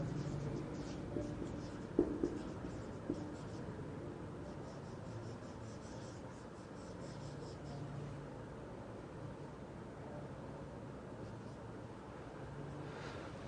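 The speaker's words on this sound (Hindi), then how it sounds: "लिख देता हूं" Chalk or marker strokes on a board during a biochemistry lesson, faint scratchy writing with a few sharp taps early on, under a steady background hiss and a little talk.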